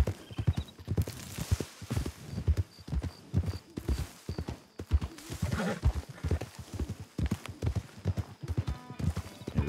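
Horses' hooves in the video game Red Dead Redemption 2 clip-clop in a brisk, uneven trotting rhythm of many close hoof strikes, with a faint whinny at times.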